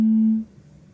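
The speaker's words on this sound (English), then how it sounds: "my phone's ringing." A loud, steady electronic tone sounds for just under half a second, then cuts off, leaving quiet room noise.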